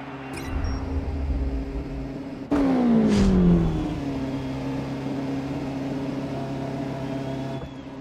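Racing-car engine from F1 2013 in a straight-line aero test on track, droning steadily, then a sharp upshift and rising rev as the car accelerates past 160 mph, holding a loud, sustained whine with no talk.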